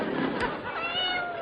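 Battery-operated electric toy cat giving a short, slightly mechanical meow, close and loud, with a harmonic wail sustained across the whole moment and room noise behind it.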